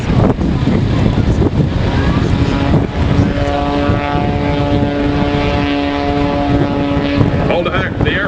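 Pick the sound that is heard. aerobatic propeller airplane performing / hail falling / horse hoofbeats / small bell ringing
aerobatic propeller airplane performing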